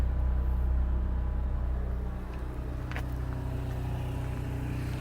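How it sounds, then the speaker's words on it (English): A generator running on a custom-built Bloomer 4-horse living-quarters trailer, giving a steady low engine rumble and hum that eases slightly partway through. It sounds close and constant, with a faint brief tick and no voices. "Generator's running."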